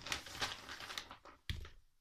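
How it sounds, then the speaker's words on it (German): A plastic shopping bag crinkles and rustles close by as items are pulled out of it, giving steady crackling bursts and then one sharper rustle near the end. "Ich hole mal jetzt alles raus aus der Tüte"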